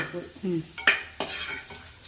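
Raisins frying in a pan as the first step of semiya payasam, with brisk sizzling and several scraping stirs of a spoon against the metal, close and clear with no talk.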